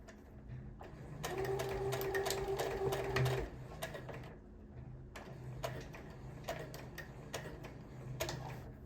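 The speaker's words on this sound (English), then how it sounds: "you're gonna put your zipper foot down again and finish the seam." Sewing machine running close up as it stitches the rest of a zipper seam on a pencil skirt with the zipper foot lowered, a steady motor whir in several bursts with short pauses between runs.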